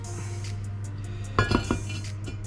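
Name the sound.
lid being put on a cooking pan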